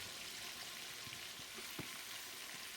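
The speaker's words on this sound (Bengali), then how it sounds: "এটা বিরিয়ানির জন্য চিকেন ফ্রাই করা চিকেন" Chicken pieces for biryani fry in hot oil with a steady, even sizzle and faint crackles, close up with no talk.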